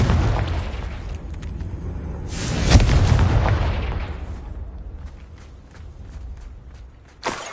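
A Confringo explosive spell blast in Hogwarts Legacy goes off as one loud, booming burst, then trails away into a rumbling decay with faint scattered clicks.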